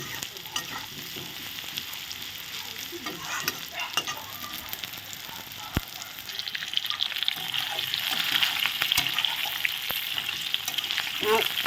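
Onion and garlic sizzle in a pan for an egg curry, a soft crackling hiss with occasional utensil clicks, growing louder and busier as the frying goes on.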